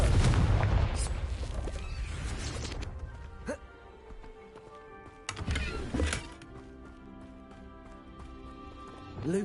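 A Confringo fire-blast spell explosion in the video game Hogwarts Legacy: a sharp burst with a rumbling tail, followed by another blast a few seconds later, over ambient game sound.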